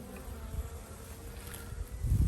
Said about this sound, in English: You see the beautiful black bees, look how beautiful and black they are.